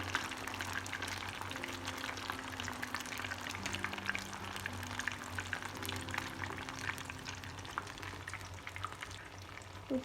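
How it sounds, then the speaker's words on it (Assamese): Chicken pieces fry in hot oil, making a steady, fairly quiet sizzle and crackle that continues throughout with no talking. "ধুনীয়াকৈ ফ্ৰাই কৰিব লাগিব এটা এটাকৈ চিকেন দি"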